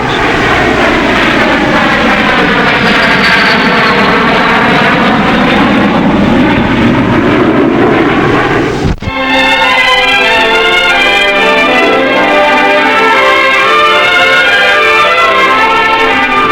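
A loud, steady North American Aviation airplane engine roars close by with a shifting propeller drone, followed by a sudden change to a different droning engine tone.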